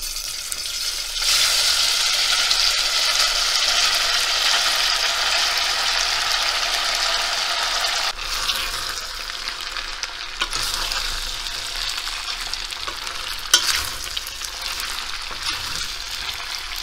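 Cooked pasta tossed and stirred in a pan of hot oil with black pepper, giving a steady close sizzle and frying crackle with scraping stirring noises throughout, slightly quieter after the midpoint.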